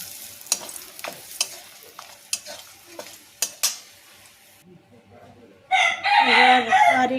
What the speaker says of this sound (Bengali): এরপর ওই তেলে আমি